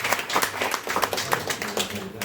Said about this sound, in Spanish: Damos un fuerte aplauso a él